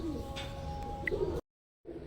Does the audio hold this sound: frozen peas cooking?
no